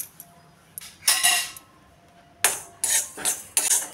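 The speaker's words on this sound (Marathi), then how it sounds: "आता टाकूया हे जवस।" Flax seeds poured into a metal pan for dry roasting, giving several short bursts of rattling, clinking scatter with quiet gaps between them.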